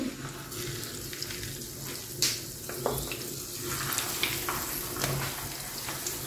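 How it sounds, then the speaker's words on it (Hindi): Batter-coated fish fries in oil over a medium flame for a Lahori fish fry, a steady close sizzle with scattered pops and crackles running throughout, no talking. "अब हम मछली फ्राई कर लेंगे"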